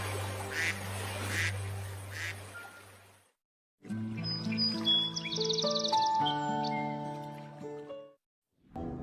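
Goose honks in a Bengali cartoon: three short, nasal, quack-like calls over a low drone, followed after a brief gap by a busy stretch of cartoon music.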